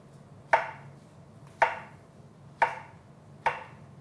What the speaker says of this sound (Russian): Теперь я кабачок нарежу сейчас достаточно толсто.